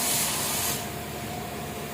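A kitchen pressure cooker cooking potatoes lets out a loud, sharp hissing burst of steam that cuts off after under a second, leaving a quieter steady hiss behind.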